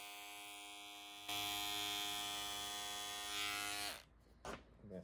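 Electric carving clippers shaving the pile of a tufted rug, a close steady buzzing hum that grows louder and harsher as the blades bite into the yarn, then cuts off into brief rustles.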